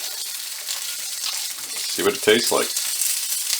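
Bacon cooking in its own rendered fat in a frying pan, with a steady broadband sizzle throughout and a voice briefly talking over it near the end.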